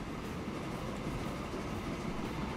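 A train running in the Train Fever video game, a steady, dense rumble of wheels on track filling the whole clip evenly with no pauses or talk.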